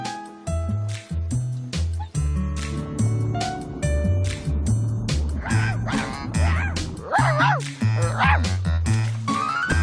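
A cartoon dog barking and yipping in Clifford the Big Red Dog, repeated loud barks alongside whimpers and squeaky vocal sounds, close and prominent, with a little voice or cartoon effect mixed in.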